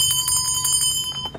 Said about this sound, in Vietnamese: Đó một cặp chuông lắc Tây Tạng ha.